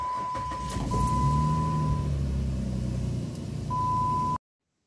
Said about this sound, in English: Trying to start the vehicle the next day.